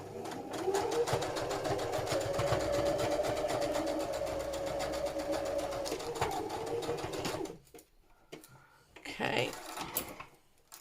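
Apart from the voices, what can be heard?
sewing machine zigzag stitching on junk journal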